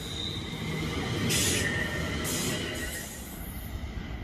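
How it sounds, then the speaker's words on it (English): A West Midlands Railway service to Wolverhampton rolls by at a station, a steady rumbling wheel roar with squealing rails and hissing, loud and close throughout. "Here comes the 11:50 West Midlands Railway service to Wolverhampton."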